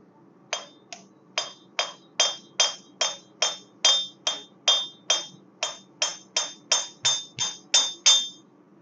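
Steady series of about eighteen ringing hammer blows on hot railroad-spike steel at a forge, evenly paced and close, with a low background hum between strikes.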